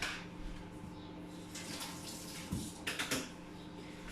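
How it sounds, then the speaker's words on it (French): A spoon is rinsed under a running kitchen tap while chocolate-chip muffins are being made. Quiet bursts of flowing water come and go over a faint background. "Je vais juste rincer ma cuillère."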